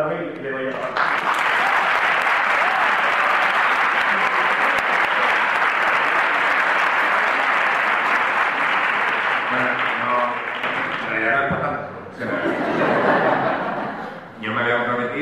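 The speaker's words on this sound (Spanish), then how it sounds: "le dedicamos el segundo aplauso de la velada" Sustained audience applause fills a university lecture hall during a talk with a film director, a dense steady roar of clapping that tapers near the end, where a few laughs and voices emerge.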